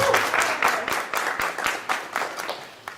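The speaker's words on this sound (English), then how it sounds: "Let's give our amazing students another round of applause." Scattered audience clapping for students at a mayoral campaign announcement, a thinning patter of distinct claps that fades over a few seconds.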